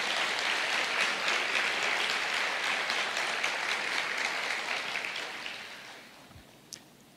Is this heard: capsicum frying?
no